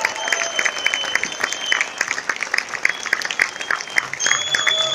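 Audience applauding at a OneCoin gala in Bucharest, Romania: dense, steady clapping from a large crowd that carries on for several seconds, with a high whistle-like tone audible above the clapping.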